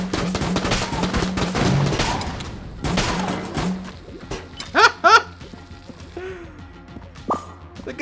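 Rapid bursts of cartoonish gunfire and popping shots from the video game Enter the Gungeon, loud and clustered in the first seconds, then a few sharper pops and squeaky effects later.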